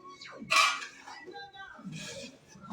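A spoon stirs mustard and chili powder in a bowl for mango pickle, making two brief scraping clinks against the dish, close by, with a voice faintly present.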